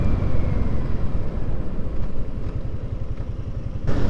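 A motorcycle idling close by with a steady low engine rumble, the throttle nudged with slight swells in pitch, ending in a brief sharper burst; no talking.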